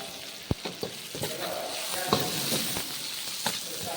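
Onions and curry leaves sautéing in a pan, a steady moderate sizzle broken by several distinct spatula taps and scrapes, close up and fairly quiet.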